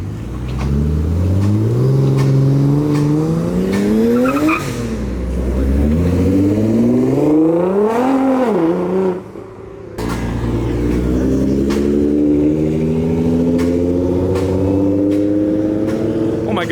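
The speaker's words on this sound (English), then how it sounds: "here comes that turbo 370 versus the 992 Turbo S" A turbo 370 and a Porsche 992 Turbo S supercar leaving a car show, engines revving hard and rising in pitch as they accelerate past, with a loud, close, continuous roar and a brief dip between pulls.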